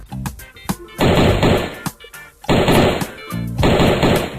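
Loud bursts of rapid automatic gunfire in a web Flash game, three long volleys separated by shorter pops and single shots.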